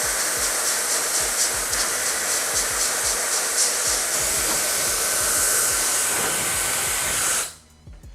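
A JRL hair dryer runs at full power with a loud, steady rushing whoosh for about seven seconds, then cuts off abruptly, leaving near silence.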